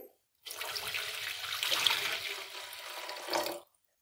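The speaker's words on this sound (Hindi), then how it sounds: "उसी मसाले के अंदर हम 4 गिलास पानी के शामिल कर देंगे।" Water pours into a cooking pot of masala steadily for about three seconds in a full rushing splash, close by, then stops abruptly.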